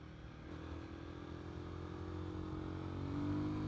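Royal Enfield Guerrilla 450 motorcycle engine running steadily while riding, a continuous close drone that gradually rises in pitch as the bike accelerates, with wind rush underneath and no talking.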